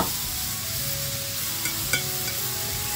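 Onions, garlic and peppers hit a wok already holding browned courgettes, giving a soft, even sizzle with a couple of light utensil clinks near the end; close, moderate and without speech.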